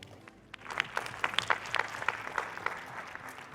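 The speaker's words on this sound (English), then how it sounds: "Please give a round of applause for Susan." An audience at a startup pitch event claps for a presenter, a modest burst of applause that swells quickly, holds, and begins to thin out.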